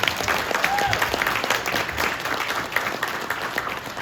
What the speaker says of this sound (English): If we can give our wonderful MC a round of applause.